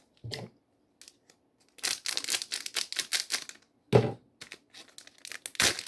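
A foil Pokémon booster pack is torn open up close, giving short bursts of crinkling and ripping separated by brief pauses, with a longer rustling stretch in the middle.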